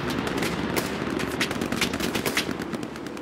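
Gunfire in the World War II shooter game Hell Let Loose: rapid bursts of machine-gun and rifle shots crackle over the full stretch, sharp and close with an uneven rhythm, no voices.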